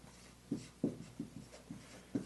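Pen or marker scratching out quick answers, a series of short distinct strokes in an irregular rhythm, close and quiet with no talking.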